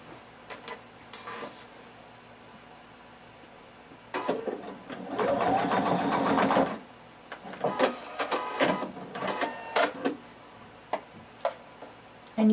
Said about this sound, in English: And then we're going to sew it in place about a 1/2 inch down.